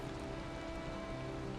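Steady rain falling in the video game Valheim, a dense even patter that runs without a break, with faint sustained tones held underneath.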